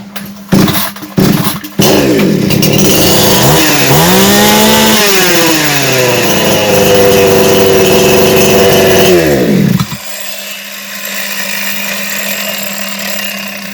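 A Kitprom gasoline chainsaw is pull-started in a workshop: a few sharp cord yanks and sputters, then the engine catches and revs loudly with rising and falling pitch for several seconds before dropping to a steady idle.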